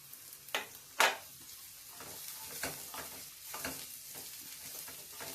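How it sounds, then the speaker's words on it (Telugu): Half a kilo of carrot pieces and chopped onion fry in a pan with a soft, steady sizzle, punctuated by a few sharp spatula clinks and stirring scrapes, no talking. "ఆ ఉల్లిపాయ ముక్కలు వేగే లోపల ఇవి కూడా వేగుతూ ఉంది"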